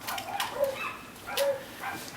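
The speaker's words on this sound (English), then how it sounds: "with the neighborhood dogs barking" Neighborhood dogs bark in the distance during a camera unboxing, two bursts of barking with a faint yelp, outdoors and fairly far off, with no talk over them.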